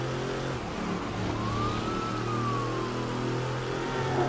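An ambulance siren in the Midnight Club 3: DUB Edition Remix racing game: one rising-and-falling wail passing over a steady car engine drone, moderately loud, with no talking.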